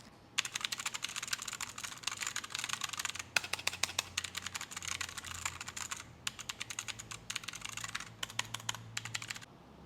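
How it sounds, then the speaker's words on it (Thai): Rapid, crisp clicking of a Tsunami MK61 mechanical keyboard with blue switches being typed on in quick bursts with brief pauses, close and fairly quiet. "มาฟังเสียงครับคีย์บอร์ดตัวนี้ครับมาฟังเสียงนะครับ"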